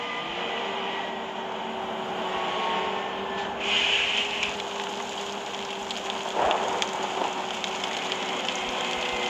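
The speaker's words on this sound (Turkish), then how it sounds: "Evet yağmurumuz da başladı." Steady rain patters and hisses on a bus in Bus Simulator Ultimate, with a low constant hum beneath and a few brief knocks.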